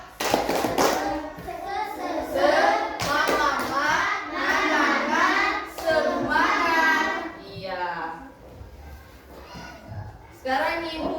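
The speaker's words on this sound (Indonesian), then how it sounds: "Tepuk semangat" A classroom of children performs rhythmic 'tepuk semangat' group clapping, bursts of hand claps mixed with loud chanted children's voices in a patterned cadence.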